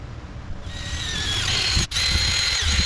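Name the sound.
soft wire wheel on power tool, cleaning exhaust for welding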